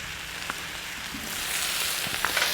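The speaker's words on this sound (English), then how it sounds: "I'm browning the pork itself" Pork browning in an outdoor cooking wok, a soft, steady sizzle with faint crackles and pops that swells slightly toward the end, heard alone without talk.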